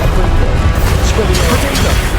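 The Confringo spell blasts in Hogwarts Legacy amid loud, dense crashing and booming combat noise. A voice calls out spells over the continuous impacts.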